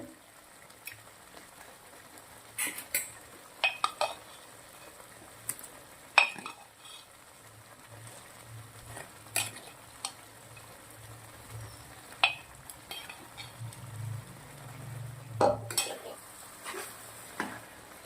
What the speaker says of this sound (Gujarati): હવે આપણા બધા જ વેજીટેબલ નાખી દેવાના છે